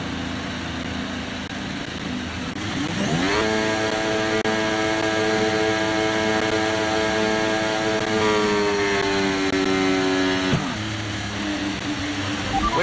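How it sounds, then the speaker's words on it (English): Formula 1 car engine in the F1 23 racing game, idling low before climbing into a loud, sustained high-pitched rev held at the start line, wavering slightly, then dropping sharply near the end. "Let's build the revs."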